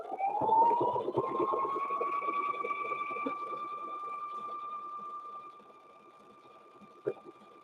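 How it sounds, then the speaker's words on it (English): A sewing machine stitches around a quilted handbag with variegated thread, its motor whining up to speed and then running steadily close by, easing slightly before a sharp click near the end. "So let me stitch down this side and then we'll go around it."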